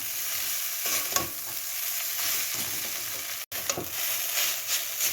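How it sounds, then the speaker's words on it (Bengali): Noodles stir-fried in a pan with sugar and salt: a continuous close sizzle with repeated scraping strokes of a spatula, one brief cut midway, no talking. "আমার নুডলসটা ভালো করে ভাজা হয়ে গেছে"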